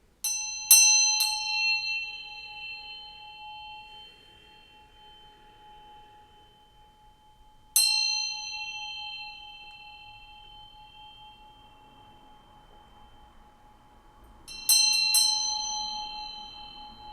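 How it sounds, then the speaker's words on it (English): A small bell struck three separate times, each strike ringing out with a bright, sustained metallic tone that slowly fades, alone in a quiet room. "I'm going to ring this bell here to bring in some good vibes"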